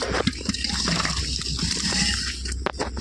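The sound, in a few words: pouring out a pot of water and fish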